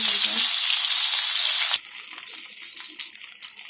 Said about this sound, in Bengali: অল্প তেলে ভাজতে হবে